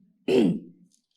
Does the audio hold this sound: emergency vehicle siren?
no